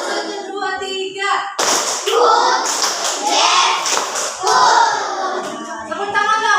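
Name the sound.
class doing a rhythmic counted clapping routine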